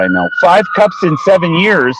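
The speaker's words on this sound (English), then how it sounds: "Sorry about the siren." A siren passes outside, its steady wail riding under close, loud talk from someone speaking throughout.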